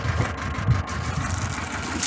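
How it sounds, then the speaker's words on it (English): A small farm tractor idles steadily nearby, a low continuous rumble with a slight uneven chug and no other sounds over it. "And a little tractor up there."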